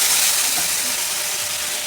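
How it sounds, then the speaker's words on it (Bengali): Tomato spice paste hitting very hot oil in a pan, a loud continuous hissing sizzle that stays steady throughout. "তেল প্রচণ্ড হিট হয়ে গেছে প্রচণ্ড আর এই যে মশলাটা এর ভিতর দিয়ে দেবো"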